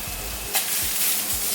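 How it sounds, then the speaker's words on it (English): Venison steaks searing in a very hot pan give a steady, close sizzle, broken by a few soft thumps as the meat shifts. "we're just going to give that a good sear in a really hot pan, 2 or 3 minutes each side"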